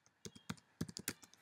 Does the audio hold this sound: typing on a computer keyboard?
yes